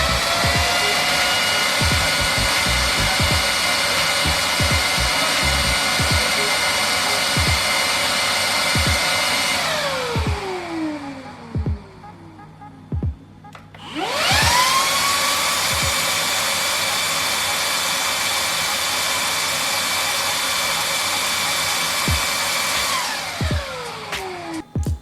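A Xiaomi Mi handheld vacuum cleaner runs with a loud, steady motor whine and no talk. It spins down to near silence around the middle, then starts again and runs steadily before winding down at the end.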